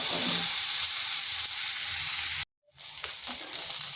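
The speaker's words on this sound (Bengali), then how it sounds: "মিডিয়াম আঁচে রেখে বেগুনটাকেও ভাজা ভাজা করে নেব।" Eggplant pieces fry in oil in a pan over medium heat with salt and turmeric, a loud continuous sizzle that cuts out briefly, then resumes with a couple of light utensil taps.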